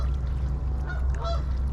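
Geese call beside muddy water in late winter, a few short nasal honks rising over a steady low rumble of wind and background noise, moderately distant.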